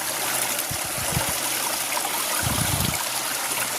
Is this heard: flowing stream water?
yes